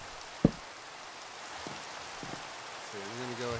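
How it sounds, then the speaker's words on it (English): Rain falls in the Minecraft video game as a steady, soft hiss, broken by a sharp thump near the start and a few faint tonal blips toward the end. "It's raining."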